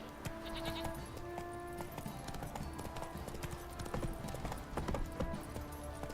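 Steady clip-clop of Geralt's horse Roach galloping in The Witcher 3, rhythmic hoofbeats running throughout over in-game ambience and music, with faint animal bleats mixed in.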